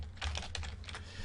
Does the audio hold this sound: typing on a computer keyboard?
yes